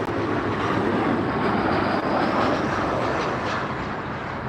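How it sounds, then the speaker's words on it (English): An Alaska Airlines airliner passing at LAX airport, heard as a steady, fairly loud broadband jet roar that holds throughout without voices. "We have an Alaska Airlines you'll see passing us"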